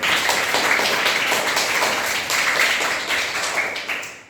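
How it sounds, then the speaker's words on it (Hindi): Students clap together on request, a steady near burst of hand claps with a rhythmic, tapping texture that continues for several seconds before fading slightly. "एक बार जोरदार ताली बजा दें"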